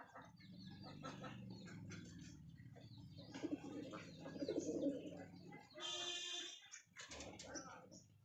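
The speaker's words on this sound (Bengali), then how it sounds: "সব ডাকাডাকি করছে।" Young pigeons coo and call in a home loft while being fed, soft overlapping burbling close by with a few sharper calls and faint rustling.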